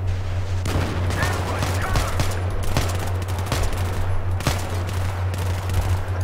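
Continuous Battlefield 3 co-op gunfire, with dense rapid shots and bursts running the whole time under a steady low game rumble, loud and close.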